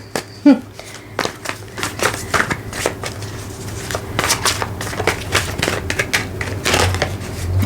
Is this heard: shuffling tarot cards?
yes